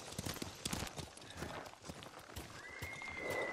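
Horses in the video game Ghost of Tsushima, with a run of close hoof clip-clops at the start, then a neigh and whinny later on, moderately loud and with no talk.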